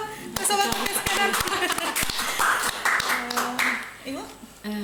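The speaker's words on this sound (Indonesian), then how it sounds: "Tepuk tangan dulu ke Sobat Podcast Kedan" People in a podcast studio clap in sharp, distinct hand strikes that mingle with ongoing talk and music-like tones, the claps fading toward the end.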